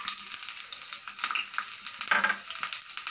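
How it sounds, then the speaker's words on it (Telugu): Mustard seeds, cumin and urad dal frying in oil alongside garlic cloves, a soft, close sizzle with light crackles and a few spoon scrapes, fairly quiet. "కొంచెం వేయించుకుందాం"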